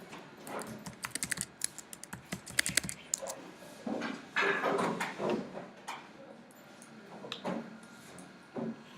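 A password typed on a computer keyboard in a database class, with quick irregular keystroke clicks in bursts and a few louder taps, quiet and close, with a brief pause in the middle.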